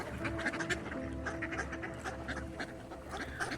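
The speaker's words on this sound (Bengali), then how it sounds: "দূর থেকেই অসংখ্য হাঁসের কলকণ্ঠ শুনতে পাচ্ছিলুম।" A large flock of ducks at dusk keeps up a dense, continuous chorus of overlapping quacks and chatter, steady and busy throughout with no single call standing apart.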